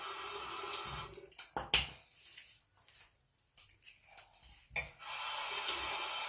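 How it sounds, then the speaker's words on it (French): Running water from a tap hisses steadily while a sponge is rinsed under it, the flow breaking into wet splashes and squeezes midway before resuming, close and fairly quiet with no talking. "je vais rincer et préparer mon éponge"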